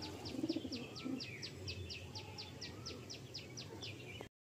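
Madrasi pigeons coo in a few soft bursts early on, close but quiet, while a steady run of sharp chirping ticks and low background murmur carries through.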